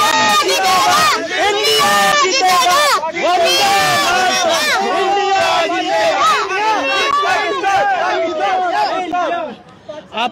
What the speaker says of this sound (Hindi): आप क्यों इतना चिल्ला रहे हो?